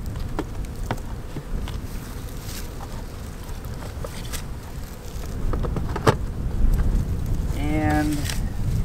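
Honey bees buzz around an insulated Apimaye hive colony in winter during feeding with pollen patties and syrup, a low steady drone with individual bees zipping close by the microphone.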